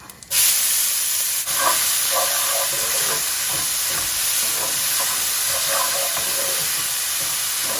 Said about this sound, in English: Then I'm just going to add in the finely chopped onions.